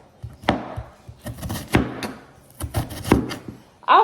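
A knife chopping food on a cutting board for pepper steak, crisp close knocks in uneven clusters with short pauses between them and no talking.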